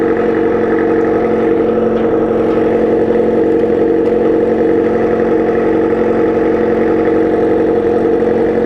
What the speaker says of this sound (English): Man, that exhaust is loud.